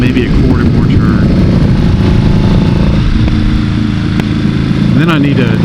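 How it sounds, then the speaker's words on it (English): Buell motorcycle engine running with the throttle only slightly open on a warm-up lap at Tail of the Dragon, a steady loud rumbling drone throughout, with a brief rise near the end. "I'm in the throttle just a little bit, but it's not catching because of the slack."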